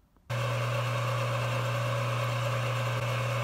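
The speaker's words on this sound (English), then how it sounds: "The carbide cutting tools are taking this aluminum off just fine." A 9x20 mini metal lathe switches on and runs while carbide tools cut aluminum, starting abruptly from near silence into a steady motor hum with a strong low drone, continuing evenly to the end.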